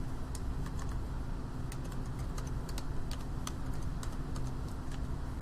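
Steady keystrokes on a computer keyboard as Python code is typed, a continuous run of soft, close clicks over a low background hum, with no talking.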